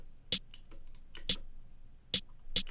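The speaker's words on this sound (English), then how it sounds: "And then I have a snare, it doesn't do much." Sparse, crisp plugg-style snare drum sample hits at a quiet level, four sharp bright cracks spaced irregularly with faint softer ticks between them.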